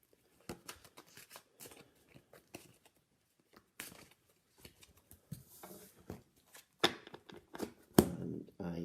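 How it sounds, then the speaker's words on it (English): A pack of tarot cards being shuffled by hand in irregular bursts of riffling and soft slapping, sparse at first then denser and louder toward the end, close and otherwise quiet. "1 pack of tarot cards, which I will shuffle"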